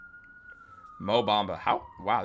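Police sirens wail on a Manhattan street as a steady, distant tone that drifts slowly, while a nearby voice talks over it for the second half.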